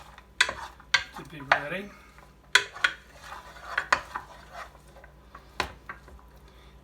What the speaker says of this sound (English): I'm just going to mix this a little bit